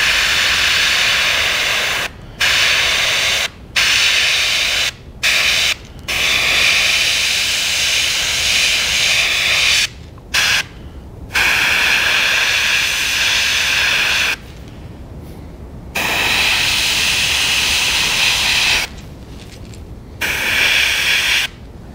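Airbrush spray painting the throat and belly of a fishing lure, a loud close steady hiss in repeated bursts separated by short silent pauses.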